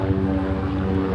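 A helicopter passes overhead in Capitol Hill, Seattle, a steady low rumbling drone with strong low-pitched tones, continuous and fairly loud throughout with no talking.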